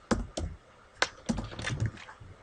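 Keys tapped on a computer keyboard in a quiet room, a handful of separate clicks and short bursts, close and fairly soft, with no talking.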